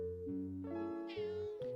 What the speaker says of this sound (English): What is all this meowing about?